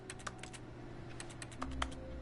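Keyboard typing from the video game The Stanley Parable, a steady run of light, quick key clicks over a low room hum, with a couple of heavier thumps near the end.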